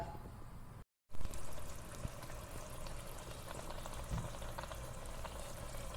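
A steady bubbling of water boiling in a pot for chicken kakkarotti, continuous and close, with a brief silent gap near the start.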